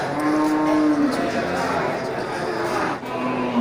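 Bali cattle mooing loudly and close by at a livestock market, long low calls with some overlapping, amid a busy background of voices and activity.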